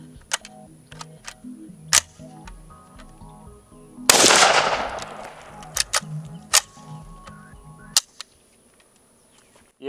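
Sharp isolated gunshots from a Kalashnikov rifle ring out at uneven intervals, including a misfire, with one longer burst of loud noise in the middle, set against a quiet background.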